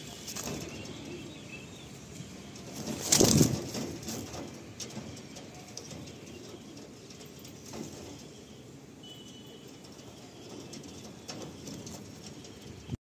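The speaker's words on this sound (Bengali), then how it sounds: "আমরা একটু আপনাদের রিলিজ করে পায়রাগুলো শখ করাই" Pigeons released from a loft beat their wings in one brief, loud flapping burst, then the sound settles back into a steady low background.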